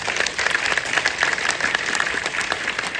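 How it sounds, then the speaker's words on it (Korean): An audience at a Korean film screening and director's talk breaks into sustained, dense applause, many hands clapping steadily close by for several seconds. "다시 한번 감독님께 또 큰 박수를 드리고 싶습니다"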